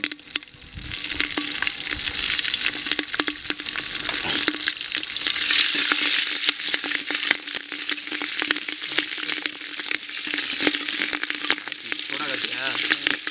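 Onions fry in a pan for a clay pot chicken biryani, a steady close sizzle with constant crackling and irregular stirring scrapes and clanks throughout.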